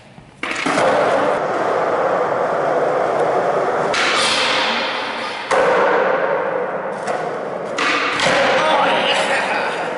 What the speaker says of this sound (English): Let's do a nose grind on the whole rail.